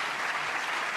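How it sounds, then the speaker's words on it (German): An audience at the Ohrkanus 2012 audio award ceremony, honouring the best voice performer, claps in dense, even applause that fills the hall at a steady level, close and loud, with no voice over it. "Sein Name ging im Applaus unter"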